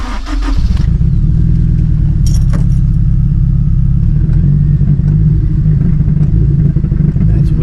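A 2006 Honda S2000 AP2 being rebuilt after a wreck cranks briefly and catches, then settles into a loud, steady idle close by, with a light metallic rattle near the start.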